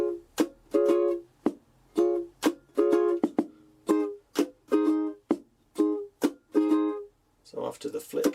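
Ukulele strummed in a steady rhythmic pattern for a song, with bright repeated strokes and muted chucks in a close, quiet room, finishing on a quick up-down strum.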